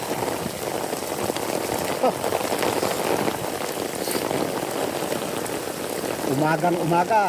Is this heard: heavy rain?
yes